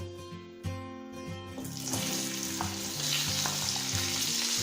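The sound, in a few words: boiled potatoes frying in hot oil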